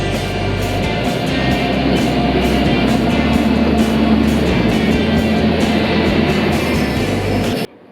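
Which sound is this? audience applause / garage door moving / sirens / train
train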